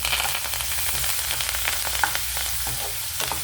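Onions, green chilli pieces, curry leaves, coriander and garlic cloves frying in a pan for a tomato curry, a steady close sizzle with faint stirring clicks and no talk.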